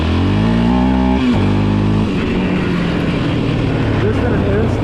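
A Raptor 700 four-wheeler ATV engine, stock and unmodified, runs loud and close with a steady, rising drone throughout, and the pitch climbs as it revs.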